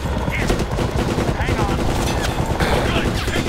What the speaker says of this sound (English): I'm glad I can just concentrate on shooting now.